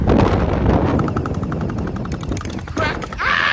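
Splat gel blaster guns firing from a moving vehicle, heard as rapid, loud bursts of snapping shots in quick succession, close by, with a brief pause near the end before more shooting resumes.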